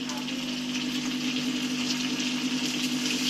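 Water poured into a pot of chicken junglee pulao as it cooks, a steady hissing, gushing wash of liquid that runs evenly throughout at moderate level with no break.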